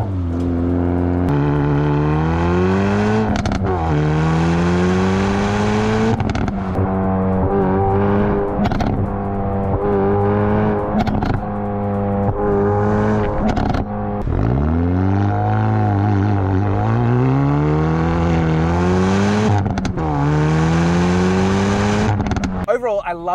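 Hyundai i30 N (2020) with a big dual exhaust, revved hard again and again, each rev swelling and falling away in a loud, close, throaty run lasting over twenty seconds.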